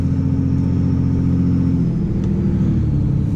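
A pickup truck rolls along in second gear, its engine giving a steady, close mid-low drone that shifts pitch downward partway through as it eases off, with no talking.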